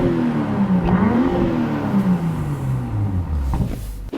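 A BMW M240i engine revs in Sport Plus mode, its note swelling up and dropping back in a few strong sweeps, close and alone with no talking.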